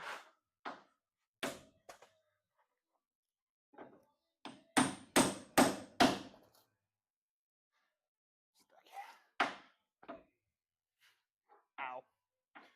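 Sharp, loud hammer strikes from a hatchet used as a hammer come in bursts, including a rapid series of four close blows, separated by quiet pauses and occasional soft breaths.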